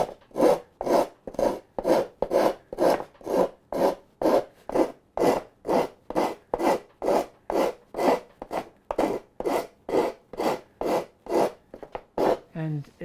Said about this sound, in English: The coarse rasp is very quick at doing it, but of course it is coarse